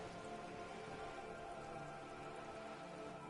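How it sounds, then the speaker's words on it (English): Steady rain in a video game falls on wooden boards and surrounding water, a dense, even patter that holds unbroken and fairly quiet throughout. "All around you, rain keeps falling down."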